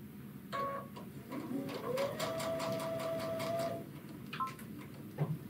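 Baby Lock Chorus sewing machine stitching fabric, its motor whine rising and then holding steady for about two seconds under a rapid, even ticking of the needle, with a few softer mechanical clicks before and after; no one talks.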